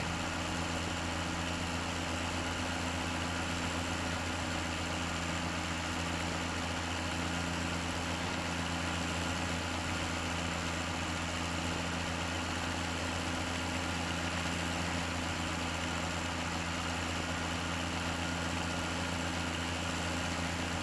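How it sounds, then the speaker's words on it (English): A tractor engine idling in the video game Farming Simulator 17, a steady droning rumble with constant vibration holding unchanged for the whole stretch, with no talking. "The tractor didn't want to turn back."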